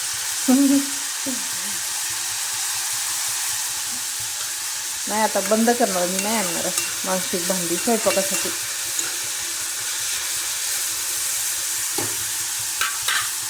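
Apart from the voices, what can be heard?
moth bean dal and onion frying in oil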